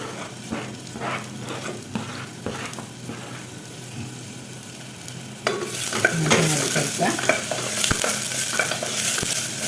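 A finely chopped medium onion sizzles in hot oil while a spoon scrapes and stirs the pan, the frying growing louder partway through.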